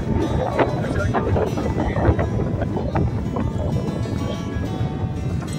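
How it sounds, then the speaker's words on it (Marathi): Strong wind at a hilltop temple buffets the microphone in a loud, continuous rumble, and voices can be heard faintly beneath it. "जोराचा वारा सुटलाय इथे."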